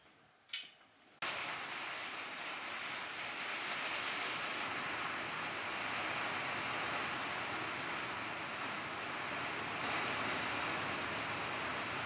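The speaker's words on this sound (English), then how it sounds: "now there's rain." Steady rain pours down outside on a chill Saturday morning, a dense continuous hiss that starts abruptly after a brief quiet moment and holds at an even level throughout.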